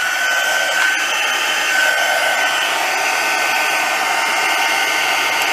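A heat embossing tool blows a steady, loud, hissing whoosh while it melts white embossing powder until the powder turns clear and shiny. The sound is close and continuous, with no talking.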